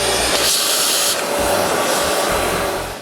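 A vacuum cleaner fitted with a narrow nozzle sucks wood dust from a table saw, a loud steady whooshing roar whose pitch shifts slightly as the nozzle moves.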